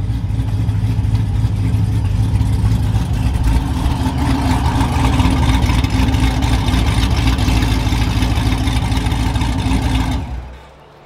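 Truck with a loud exhaust and a trans brake, its engine droning and rumbling steadily from inside the cab, very loud and close, then cutting off abruptly near the end.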